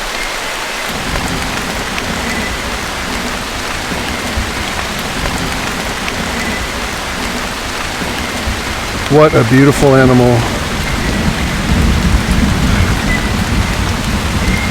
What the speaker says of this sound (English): I'm not sure how much rain we have left to endure here.